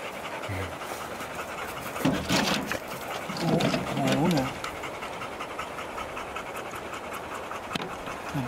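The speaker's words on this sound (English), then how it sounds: "They're puppies." Puppies pant rapidly and shuffle about outdoors, close and moderately loud, with a few brief bursts of rustling movement and muffled background noise.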